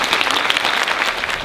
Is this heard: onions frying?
no